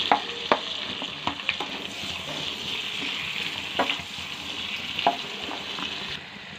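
Onions fry in hot oil and butter for a dhaba-style egg tarka, giving a steady close sizzle broken by sharp clicks from stirring.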